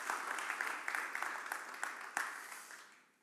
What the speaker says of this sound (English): So another round of applause, please, for Joe Kennedy III there.